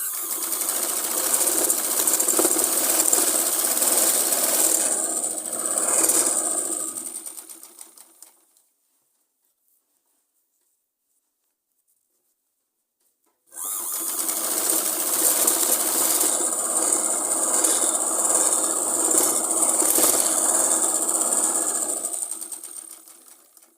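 An electric sewing machine stitches a Punjabi suit in two bursts of rapid, rattling needle clatter, running several seconds each and separated by a pause of silence, close and fairly loud.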